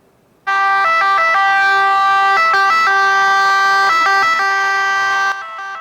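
An ambulance siren wails loudly and steadily, its two-tone pattern alternating close by for several seconds before easing off slightly at the end, with no talk.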